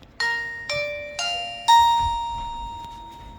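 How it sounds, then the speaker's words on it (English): A doorbell camera's indoor chime plays four clear, ringing tones in a rising sequence, each note struck about half a second apart and left to fade, with no talking. "when they ring the bell, you'll hear it inside your household"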